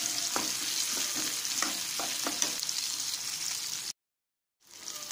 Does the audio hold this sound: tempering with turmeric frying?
yes